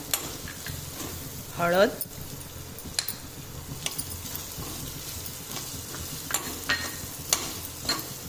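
Garlic and chilli sizzle in a pan for kali gole, a steady frying hiss with occasional scrapes and light clinks of a utensil, while a voice briefly speaks over it.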